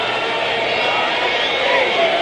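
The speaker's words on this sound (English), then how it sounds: "the crowd's standing here for the 7th inning stretch, and they are singing with the band as they're playing in deep center field" A 1962 San Francisco ballpark crowd, standing for the seventh-inning stretch, sings along with a band playing in deep center field, heard as a dense, steady, distant wash of voices in an old radio broadcast.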